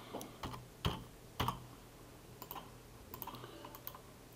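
A computer keyboard is typed on while entering AutoCAD commands: a few faint, sparse key clicks and taps, close by and quiet, with no voices.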